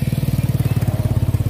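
A motorcycle on a village road between rice fields putters close by, its engine giving a steady, rapid low pulsing throb at even rhythm throughout.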